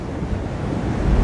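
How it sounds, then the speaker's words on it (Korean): Strong wind buffets the microphone over a steady roar of open-sea waves aboard the cruise ship Norwegian Dawn on an Atlantic crossing, a loud continuous rush with no talk. "어제보다는 바람이 조금 더 심한 것 같아요"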